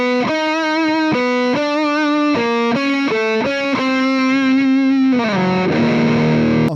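Heavily distorted electric guitar through a Mesa Mark V 25 amp with a metal tone, playing a loud riff of sustained chords and quick note changes, ending in a noisy, ringing smear.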